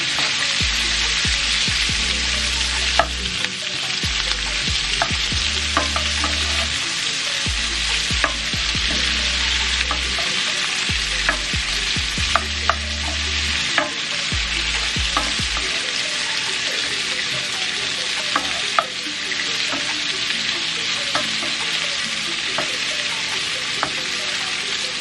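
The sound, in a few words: vegetables and onions cooking in a pan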